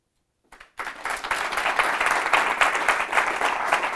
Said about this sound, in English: I'll keep clapping.